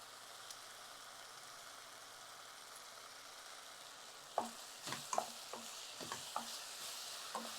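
Crushed garlic and curry leaves sautéing in a pan, first a quiet steady sizzle, then a run of sharp stirring scrapes and clinks in the second half, close and fairly faint.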